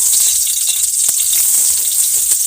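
Garlic sizzling hard in hot oil in a pan, a loud steady frying hiss with faint crackles and stirring pops throughout.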